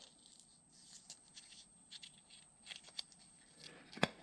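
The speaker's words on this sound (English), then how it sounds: "Let's use this piece of cardboard once again. I'll cut that," Scissors cut through a piece of cardboard in a few faint, crisp snips and rustles, ending with a sharper snip near the end, alone and quiet.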